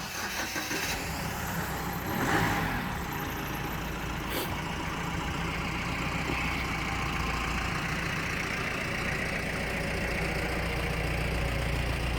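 A parked car's engine idles steadily at a temple complex, a continuous low rumble running close and even throughout, with a brief brighter swell near the start.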